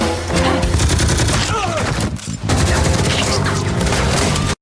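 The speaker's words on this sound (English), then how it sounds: "The moment they breach the compound, a brutal gunfight erupts." A movie gunfight during a raid on a cartel compound, dense bursts of gunfire crackling almost continuously and loud, with a short lull midway and a voice partly audible underneath.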